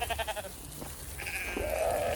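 Sheep on a solar grazing farm bleat nearby, a short wavering call followed by a longer, louder bleat over low outdoor background noise.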